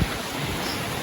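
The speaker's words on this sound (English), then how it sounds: "it's a neat little spot where waterfalls are" Rushing water from waterfalls near God's Bridge in Akchour, Morocco, forms a steady, broad roar that fills the air without a break.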